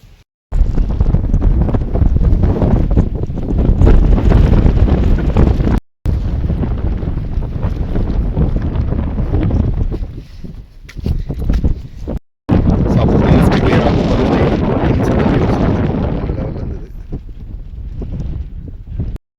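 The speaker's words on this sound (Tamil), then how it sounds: "அதனால் அவ்வளோ காற்று." Strong mountain wind roars across the open heights of Agasthiyar mountain, buffeting the microphone in loud, sustained gusts that cut out briefly a couple of times.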